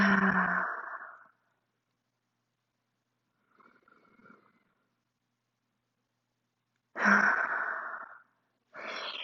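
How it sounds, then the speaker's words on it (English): Deep breathy exhales during a Pilates session, a long whooshing breath out at the start, a faint breath midway, then two more strong exhales close to the microphone, with silence between. "Take a nice deep breath in through the nose. Exhaling it out."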